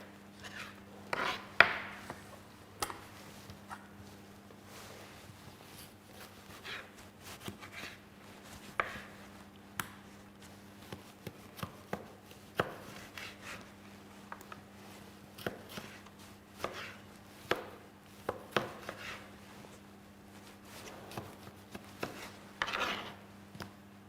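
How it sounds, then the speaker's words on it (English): Vegetables chopped with a knife on a green cutting board, a series of crisp, irregular taps, some quick runs and some spaced apart, faint and close in a quiet kitchen. "when we chop the vegetables, we use the green cutting board"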